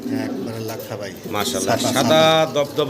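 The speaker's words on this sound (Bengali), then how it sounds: "কবুতর" Fancy pigeons coo close by in low, throaty bursts, mixed with people talking over them.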